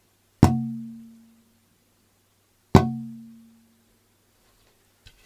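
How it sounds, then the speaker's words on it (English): Two taps on a Sitka spruce guitar top from an old stash, each a clear resonant knock with a warm low ring that fades slowly, spaced a couple of seconds apart. "You just don't hear spruce that sounds like this anymore."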